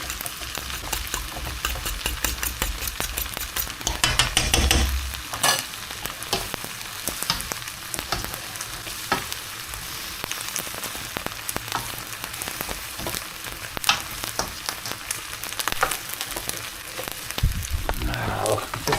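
Egg sizzles and crackles in a hot pan or wok as it is whisked and stirred for special fried rice, a steady loud frying hiss with scraping stir strokes throughout.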